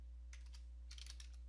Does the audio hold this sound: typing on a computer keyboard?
yes